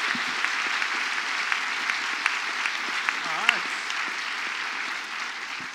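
An audience applauds at a comedy science-talk event in London, giving steady, moderately dense clapping that carries on evenly, with a voice briefly audible partway through.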